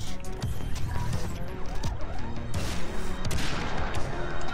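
Rapid pistol gunfire in the video game Far Cry 3: Blood Dragon, packed closely under dense game music and effects, loud and continuous with no clear gaps.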